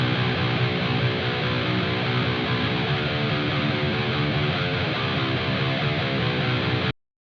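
A thick, sustained distorted electric guitar plays dense chords loudly and steadily, cutting off abruptly near the end.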